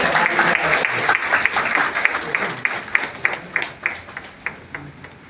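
Audience clapping loudly to welcome the chief guest at an agricultural science centre (Krishi Vigyan Kendra) event in Gumla, Jharkhand, a dense burst of applause that thins toward the end into scattered individual claps.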